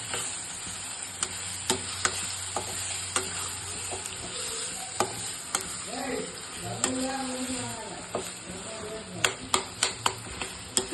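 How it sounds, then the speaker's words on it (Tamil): Stirring and frying in a pan over a low flame, with steady sizzle and repeated sharp scraping clicks of a spoon against the pan, louder and more frequent toward the end; some background voice-like tones are present. "இப்போ நல்லா கலரிக்கணும். ஸ்லோ ஃப்ளேம்ல வச்சுட்டு கலரிக்கோங்க."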